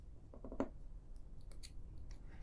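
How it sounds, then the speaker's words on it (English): Scissors snip off loose yarn ends on a Journey loom weaving, a quick cluster of crisp little clicks followed by a sharper cut, close and quiet, with faint handling noises after. "I'm just gonna snip them off."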